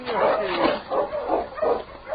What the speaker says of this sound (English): Then suddenly he barked eagerly, ran a short distance, then stopped and looked back, still barking